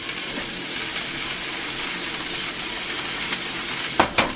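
Bannock bread fries in a pan with a steady, dense sizzle throughout, ending with a couple of brief clinks near the end.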